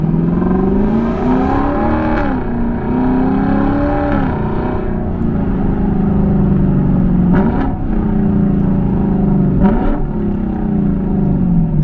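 A 2022 Lexus LC500 with a 471-horsepower engine accelerates loudly, the engine note climbing repeatedly through rising pitch sweeps with brief dips at gear changes, heard from inside the car with no talking.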